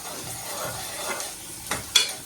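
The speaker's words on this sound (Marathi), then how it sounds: "कांद्याला चांगलं फ्राय करून घ्या." Onions fry for chicken biryani and are stirred with a spoon, giving a soft, continuous sizzle with gentle scraping and a sharper clink near the end, close and without talking.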